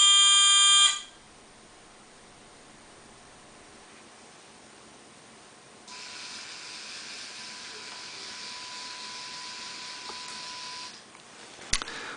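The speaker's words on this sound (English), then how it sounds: "the buzzer is supposed to respond to a certain color" A fischertechnik driving robot's buzzer gives a loud shrill tone for about a second, and after a stretch of quiet a fainter steady electronic tone holds for several seconds before stopping with a click.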